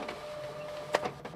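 A fax machine receives and prints a fax, giving a soft mechanical whir with a few small clunks and clicks from the printing mechanism, heard faintly up close.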